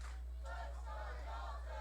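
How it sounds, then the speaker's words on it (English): A wrestling crowd at The Purge 2025 chants in rhythm for Dalton Grey, a dense, steady roar of many voices filling the whole stretch without pause. "we would hear the crowd chant, "Let's go Dalton,""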